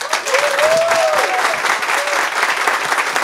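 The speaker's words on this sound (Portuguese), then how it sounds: "é motivo louvável de realmente aplaudir o prefeito Lucasia." Audience applause fills an indoor hall at the inauguration of a 24-hour pediatric ward in Artur Nogueira, steady and close throughout, with a faint tonal whistle or feedback tone rising briefly above the clapping.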